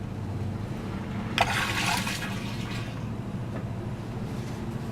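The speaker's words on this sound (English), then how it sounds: "And then you flush." RV toilet flushing: a short rush of water begins abruptly, surges for under a second, then fades into faint trickling over a steady low hum.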